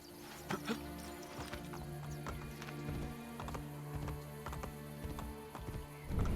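Horse hooves clip-clop in an irregular, stepping rhythm in the video game Assassin's Creed Brotherhood, alongside a steady musical backdrop, with scattered sharp knocks and no talking.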